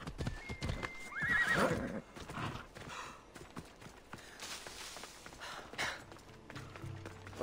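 Hooves pound as a horse gallops in the video game Assassin's Creed Odyssey, and a loud whinny rises near the start. The hoofbeats then continue quieter and more scattered, with no voices.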